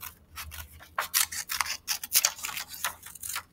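Scissors snipping through paper while cutting out a mountain landscape shape: a close, rhythmic series of crisp cuts and blade clicks, a dozen or so in quick succession, with no voice over them.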